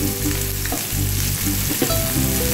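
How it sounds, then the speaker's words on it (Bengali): Bitter gourd pieces frying with turmeric in a pan, giving a loud, continuous close-up sizzle with occasional stirring scrapes and no voices. "এবার উচ্ছেগুলো আমি ভালো করে ভাজবো"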